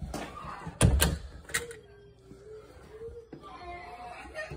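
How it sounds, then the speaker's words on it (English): A child bangs on a door indoors, two loud thumping knocks near the start and then a fainter knock, with voices heard faintly in the background. "Don't hit the door."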